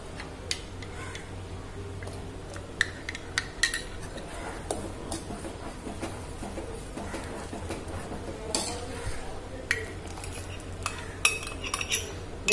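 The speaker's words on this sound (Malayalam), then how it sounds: "കട്ട പിടിക്കും, അപ്പൊ നമ്മള് ഇളക്കണം, വേഗം ഇളക്കണം" A spoon scrapes and clinks against a pot while custard made from custard powder is stirred quickly over the flame, irregular tapping knocks over a low hum, fairly quiet and close, with some faint talk in the background.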